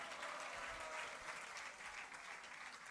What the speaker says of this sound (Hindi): वो झूमना जो है आपकी तालियों की गड़गड़ाहट में, आपके हरि बोल में नजर आना चाहिए